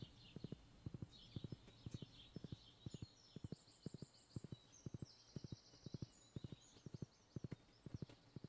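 Horse hooves clip-clopping across the ground in the Stardew Valley farming game, a steady, even rhythm of sharp double knocks all the way through, with faint chirpy game tones above.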